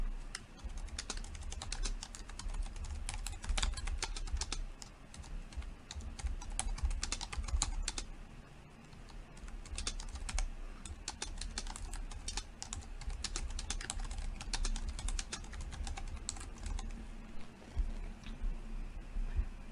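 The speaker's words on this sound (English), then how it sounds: "I'll type a subject." Someone types an email subject line on a computer keyboard, producing a steady, close run of quiet key clicks with brief pauses, alone without talk.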